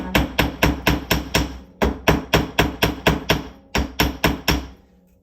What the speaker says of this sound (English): I will hammer because these were flattened.